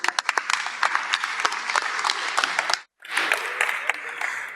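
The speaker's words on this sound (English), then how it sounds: "so a round of applause for Bruno and enjoy the last talk" An audience at a tech conference session applauds with sharp individual claps standing out over a dense roar, breaking off abruptly for a moment before resuming briefly.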